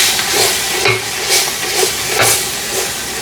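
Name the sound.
stirring chilli powder into mutton biryani masala with a ladle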